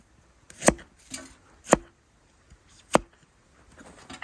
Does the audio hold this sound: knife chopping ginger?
yes